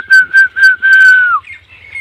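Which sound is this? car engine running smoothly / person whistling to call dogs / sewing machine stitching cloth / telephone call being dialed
person whistling to call dogs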